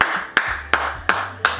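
Single sharp hand claps from a clapping contest at a Christmas Eve family gathering, four crisp, loud, evenly spaced claps close by in a quiet room.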